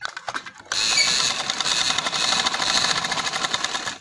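Sewing machine stitching a maroon trouser: a rapid, continuous mechanical whirr and clatter starts abruptly after a few light handling clicks and runs steadily, close and fairly loud.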